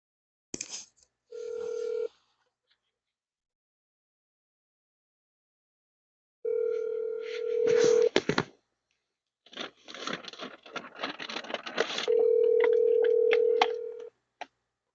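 A recorded phone call to children opens with dial tones and steady electronic ringback tones. They sound in three bursts separated by silence, with clicks and rustling between them and no talk.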